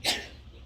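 A single short, sharp sneeze bursts out nearby and quickly fades into quiet room tone.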